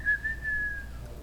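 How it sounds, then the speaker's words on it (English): A person whistles one sustained, slightly wavering clear tone for about a second at a music venue, close and moderately loud over quiet room noise. "we had a little whistle actually"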